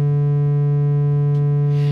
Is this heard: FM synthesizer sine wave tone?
yes